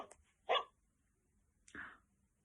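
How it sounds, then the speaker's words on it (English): A dog barks twice, short and clear with a pause between, against a quiet background. "This animal makes the sound woof, woof."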